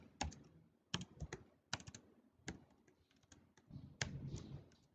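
A file name is typed on a computer keyboard: sparse, separate key clicks and short bursts of taps, close and quiet, with brief gaps between strokes.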